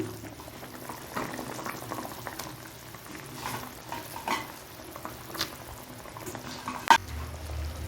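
Rohu fish and vegetable broth bubbling steadily in a pot, with fried fish pieces being dropped in; a continuous low boil with scattered soft splashes and stirring knocks, one sharper clink near the end.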